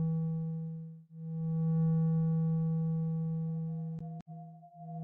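The AoScan Inner Voice app plays calming music of steady, pure sustained tones that swell and fade, with a couple of brief sharp blips near the end; clear and alone.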